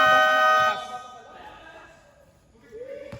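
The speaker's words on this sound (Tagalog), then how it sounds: "Buzzer na lang po maririnig" A loud, sustained electronic buzzer blares at the end of a quarter in a pre-season amateur basketball game, cutting off sharply after under a second, followed by quieter gym noise and murmuring voices.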